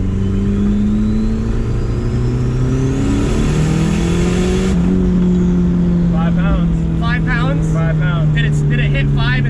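A turbocharged KA24 engine with homemade twin wastegates revs loud and close, its tone rising and holding through the pulls, with whistling turbo notes near the end and voices talking over it.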